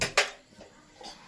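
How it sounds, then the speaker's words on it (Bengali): A metal wok is set down on a gas stove while making Bengali egg chops, giving two quick clattering knocks close by, the second louder, followed by a few softer metallic taps and then quiet. "এরপর আমি কড়াইটা বসাবো গ্যাসে"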